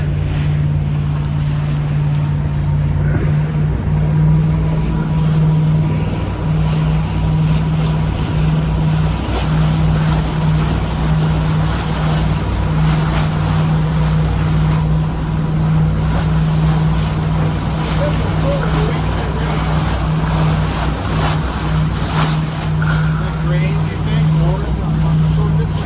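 Steady low engine drone of an antique wooden motorboat on an excursion, close and continuous under wind and water noise, with people talking now and then.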